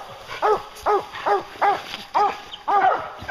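Hunting hounds bark at a bear up a tree, a steady run of loud, close barks and bays repeating roughly every half second with no talk.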